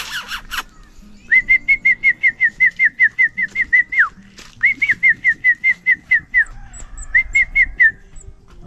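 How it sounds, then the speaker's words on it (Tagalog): A young alimukon chick calls in repeated runs of short, clear whistled notes. The runs come in rhythmic trains that start, pause, and resume, close and loud against a quiet background. "kasi yung huni niya ngayon sisiw pa lang."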